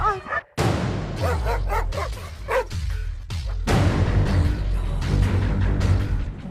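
Several stray dogs barking loudly and repeatedly close by on the street, overlapping yips and barks in quick irregular bursts.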